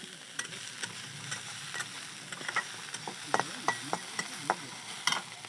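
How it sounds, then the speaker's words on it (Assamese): Small local fish and onions fry in a pan, giving a soft, steady sizzle with intermittent sharp crackles and pops, some stirring, and no talking. "তো বঢ়িয়া কৰি ভাজি আছোঁ"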